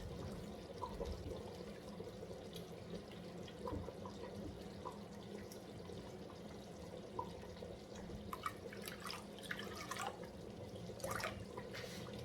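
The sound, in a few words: water being poured into pot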